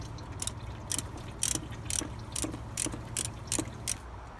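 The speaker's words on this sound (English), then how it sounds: "we have our ratchet wrench locked on it, so let's do it" A ratchet wrench clicks in a steady run of about a dozen quick, close pawl ratchets while loosening a thermostat bolt on a 2003-2007 Honda Accord engine.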